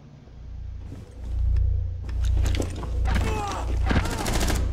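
Rapid bursts of gunfire from Rainbow Six Siege gameplay crackle over a low rumbling background, with several clustered volleys in the second half, and a player talks faintly beneath.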